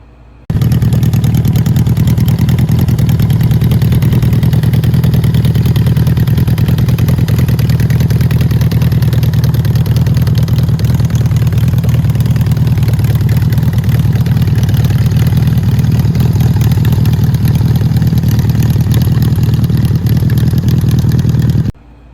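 A Yamaha XS1100 converted to a chopper bobber runs steadily in a loud, continuous idle with a deep, throbbing exhaust rumble, close by and unbroken for about twenty seconds.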